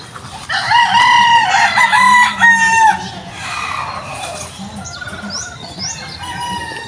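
A rooster crows loudly and close in a backyard chicken coop, followed by hens clucking and a few softer crows, with some wing flapping and light talk in the background.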